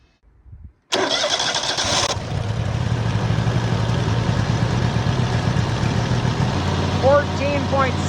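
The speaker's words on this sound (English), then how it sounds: "I'm going to turn on the sawmill" A sawmill engine cranks over, catches and settles into a steady loud idle that keeps running close by, with a brief rattle at startup and no talking.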